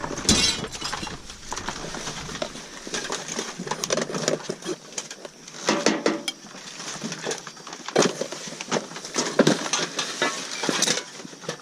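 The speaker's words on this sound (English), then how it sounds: "Before it was busted, that was a pretty neat little candle holder." A cheap glass candle holder smashing and shattering, followed by a long run of loud, close crunching, clinking and tinkling of broken glass pieces, with no talking.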